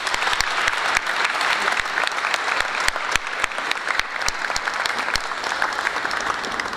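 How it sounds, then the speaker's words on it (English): Audience applauding at a university graduation ceremony in Manchester, a dense, steady wash of many hands clapping that holds loud and continuous throughout, with no talk over it. "So let's clap and celebrate the success of our graduates today"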